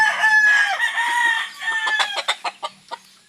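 A Sweater Gilmore gamefowl broodcock in a backyard breeding pen crows clearly and close by: one drawn-out call followed by a run of short, clipped clucking notes at the end.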